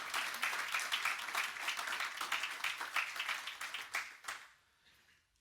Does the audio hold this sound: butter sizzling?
no